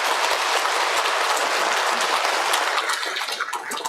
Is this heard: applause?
yes